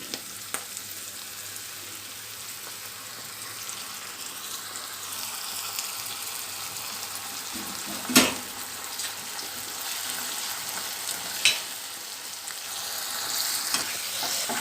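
Spice paste for green paneer masala sizzles and fries steadily in a pan, a soft continuous crackle with a few sharp clinks of stirring and no talk.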